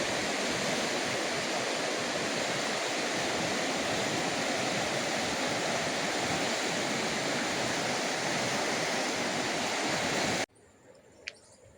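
River rushing through a green valley near Machu Picchu pueblo, Peru, a loud, steady broadband roar of fast water that continues unbroken for about ten seconds before cutting off to quiet background.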